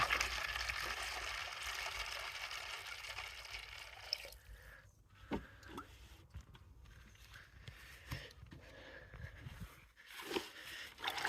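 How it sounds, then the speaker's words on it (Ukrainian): Water poured from a vessel over cherry plum pits, a steady splashing pour for about four seconds, then scattered sloshes and knocks as the pits settle, close and fairly faint. "І заливаємо водичкою."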